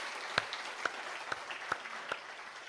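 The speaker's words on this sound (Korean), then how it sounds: "우리 박수 한번 하겠습니다." Congregation applause in a church during an evening worship service: light, sparse claps spread over a few seconds, fairly distant and soft, with no talking over them.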